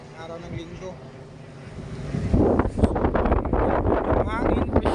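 Wind buffets the microphone outdoors at a seaside camp in Calatagan, Batangas, rising to strong gusty rumbling in the second half over a calmer breezy start.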